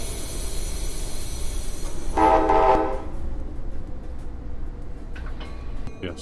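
A Metrolink train in the Trainz Simulator game rolls along with a steady rumble, and a loud horn blast sounds for under a second in the middle before the running noise carries on alone.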